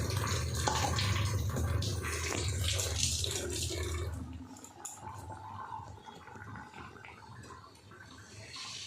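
Water poured into a pot of chicken curry simmering with chicken masala, garam masala and ginger-garlic paste, a close splashing gush for about four seconds that fades into quieter bubbling and faint clinks.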